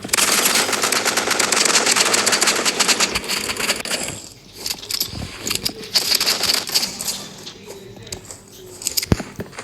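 Gunfire rings out in the video game Rivals, starting with dense rapid bursts and then moving to scattered single shots and clicks. All of it is loud and close.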